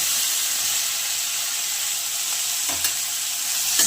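Tomatoes fry in refined oil with garlic and chilli for a South Indian tomato pickle, a dense steady sizzle with a brief stirring scrape near the end.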